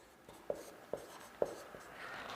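Pen or chalk writing out a maths solution during a Class 10 lesson: a few sharp, separate taps and strokes at a steady pace, faint and close, with no talking.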